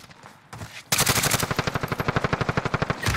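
Automatic gunfire in Call of Duty: Modern Warfare: after a few scattered shots, a loud, rapid, evenly spaced burst of machine-gun fire runs for about two seconds, close and dominant.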